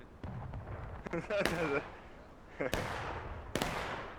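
Musket fire in the Civil War game War of Rights, with several sharp, echoing shots spread over a few seconds, some distant and some closer, while someone speaks briefly under them.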